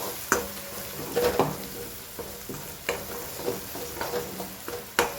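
A spoon stirs red chilli, Kashmiri chilli and coriander-cumin powder in a hot pan, giving soft sizzling frying under a series of scraping, clinking strokes against the metal, quiet and close with no talk.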